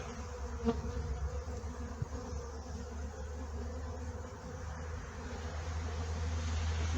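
Honey bees buzzing densely around an open beehive during a honey-production inspection, a steady close hum with individual bees droning past, faint and continuous, no talking.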